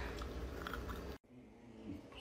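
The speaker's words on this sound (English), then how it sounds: "just politely chews and then drops it." A dog chews a treat up close with soft, wet crunching and biting, then the chewing stops abruptly, a short quiet follows, and faint chewing sounds come back.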